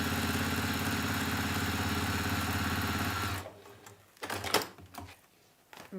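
A sewing machine stitches a waxed fabric washbag with a fast, even mechanical chatter for about three seconds, then stops, leaving a few faint handling clicks and thumps.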